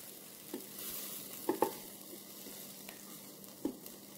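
Cajun chicken, rice and broccoli cooking in a Ninja Speedi, giving a soft, steady bubbling sizzle with a few faint clicks and small knocks scattered through it, with no voices.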